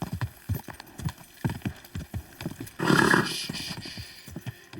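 Horse hooves clip-clop in a steady galloping rhythm in the video game Kingdom Come Deliverance 2, close and clear, with a brief loud snort or whinny midway.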